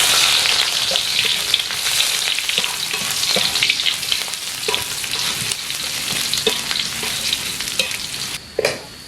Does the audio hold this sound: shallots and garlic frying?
yes